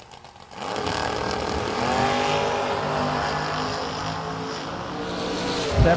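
A 1967 Mustang and a Corvette Roadster roar off the line at a drag race, a loud sustained engine drone with rising and falling pitch sweeps that holds steady for several seconds after an abrupt start.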